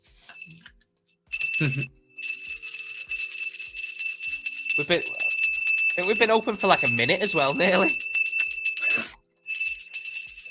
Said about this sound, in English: Nice ring of the bell.